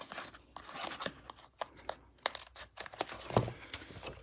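Cardstock being trimmed for a handmade card, a sequence of quiet close-up snips and paper rustles in uneven bursts, faint, with no voices.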